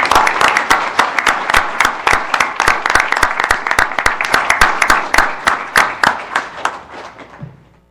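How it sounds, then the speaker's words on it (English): An audience at a township board of commissioners meeting claps in a brisk, steady round of applause that carries on for several seconds before thinning out and stopping. "join me in applause for Commissioner Zimmerman and Commissioner Lees."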